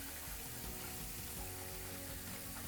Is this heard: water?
yes